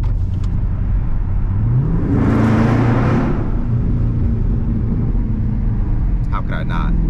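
A Dodge Charger Scat Pack engine revving inside a tunnel, a loud droning rumble that swells and rises in pitch midway and then settles, with a faint click near the end and no talk.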